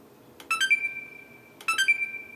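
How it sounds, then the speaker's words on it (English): Two short beep bursts from a faulty Xbox One S console as it is powered on, each a bright electronic chirp with a sustained tone, spaced about a second apart, close and clear over a quiet background. "We now just get a beep."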